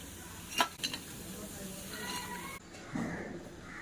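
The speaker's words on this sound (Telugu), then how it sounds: "ఇలా వేసేసి ఫ్రై చేసుకుందాం" Onion and gram flour pakoda batter frying in hot oil, a soft sizzle with a few sharp clinks of a utensil against the pan, fairly quiet, a voice speaking briefly over it.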